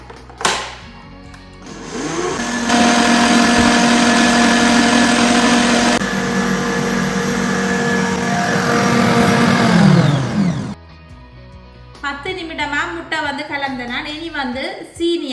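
An electric mixer whirs loudly and steadily for several seconds while beating eggs with vanilla sugar for a chocolate cake batter, then stops abruptly as a voice begins talking.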